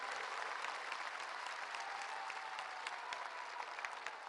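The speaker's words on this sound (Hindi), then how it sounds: "जोरदार तालियों से आप सभी लोगों ने स्वागत करें." Applause from a crowd at a Goa Liberation Day function welcoming PM Modi, with many hands clapping in an even, continuous roar that sounds somewhat distant and stays steady throughout.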